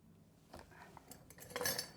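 A metal baking tray for a leek and spinach pie being handled in a home kitchen, with quiet scrapes and a few sharp metallic clinks that get louder toward the end.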